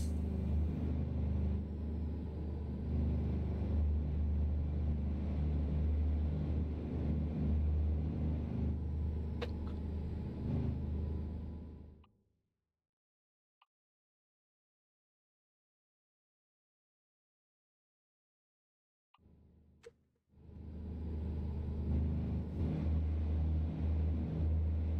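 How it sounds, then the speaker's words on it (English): Mack truck in American Truck Simulator with a straight-piped engine, a deep steady rumbling drone that cuts to silence midway before returning loud. "I was digging around on the mod website and found this this engine sound, straight pipes."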